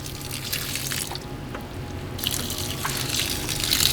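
Water runs and splashes steadily, poured from a container onto reptile chip substrate to soak it, with a short lull in the middle before the flow resumes.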